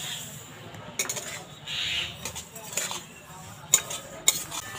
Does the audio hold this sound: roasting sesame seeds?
yes